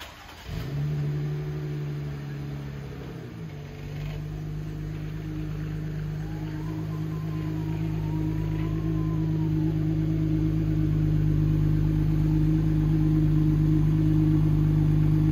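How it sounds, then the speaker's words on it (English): A lifted Jeep Rubicon's engine starts up and drives steadily alongside a taller Range Rover, a low, continuous hum that grows gradually louder and fuller as the vehicle rolls forward, with no talking. "I'm going to pull the Jeep up beside it and see how tall it is compared to the Jeep."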